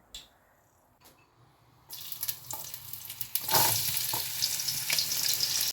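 Chicken pieces browning in a hot pan for chilli chicken, quiet at first, then a loud, rising sizzle with clattering stirring strokes building over the second half; no one speaks.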